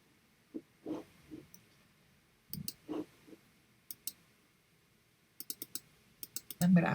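Computer mouse clicks in single and double taps during digital drawing work, sharp and close, scattered irregularly across the stretch with quiet gaps, ending in a brief louder rustle.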